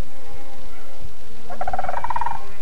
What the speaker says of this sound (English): The cry of the sandhill can be heard for a great